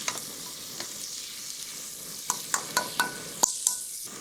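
Soft sizzling in a pan as chilli, coriander and turmeric powders are stirred for crab curry, with a series of light scraping, clinking stirs that grow more frequent toward the end.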